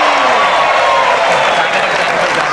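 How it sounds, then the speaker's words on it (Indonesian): On the Bukan Empat Mata talk show, studio audience applause rises for a guest called Pempi. Loud, dense clapping with crowd noise runs under an overlapping voice. "Tepuk tangan untuk Pempi."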